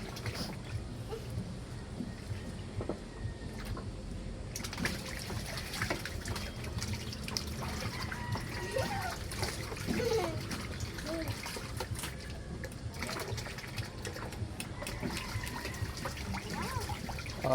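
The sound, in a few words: water splashing as someone bathes in summer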